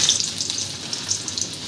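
Nigella seeds (black cumin) hit hot oil in a pan while cooking a bitter gourd and drumstick dish, giving a steady, close, bright sizzle and crackle that carries through without pause.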